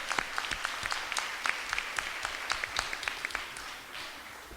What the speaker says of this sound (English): Another round of applause, please, for the young people of Dayton Street Elementary.